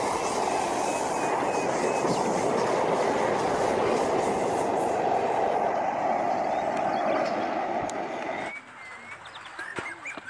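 A toy Thomas-style train or rail sound runs loud and steady for about eight seconds with clickety-clack texture, then cuts away abruptly to quieter background with faint chirps.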